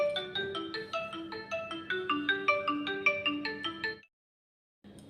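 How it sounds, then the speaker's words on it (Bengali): A phone ringtone for an incoming call plays a bright, repeating melodic pattern of clear electronic tones, loud and close, for about four seconds before cutting off into silence, with a brief return at the very end. "সারাদিন পরে একটা ভিডিও করতে বসেছি একটা ফোন এসছে"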